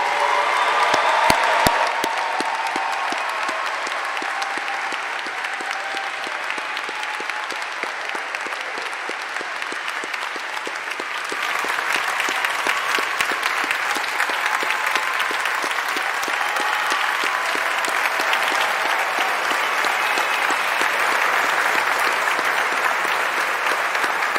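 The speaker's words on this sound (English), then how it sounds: "please join me in one final round of applause for our UNCG School of Music graduating class 2024" A large audience at the UNCG School of Music graduation ceremony for the class of 2024 gives sustained, dense applause, steady and loud throughout with a brief surge partway through.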